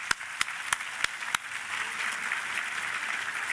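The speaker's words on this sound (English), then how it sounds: "so let's give everyone a round of applause and thank you." A few distinct claps ring out, then an audience breaks into steady, sustained applause at moderate distance.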